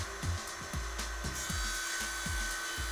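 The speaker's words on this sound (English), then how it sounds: "For lengthways cuts, you can use a jigsaw as well as a manual or circular table saw." A Parador solid vinyl flooring plank is sawn with quick, even back-and-forth strokes, about a dozen rasping pulses in a steady rhythm, close up with no voices.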